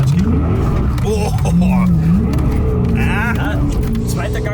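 A V8-swapped BMW 1M Coupe with an S65 engine revs loudly from inside the cabin, its engine and exhaust note rising and falling across shifts on a snowy road.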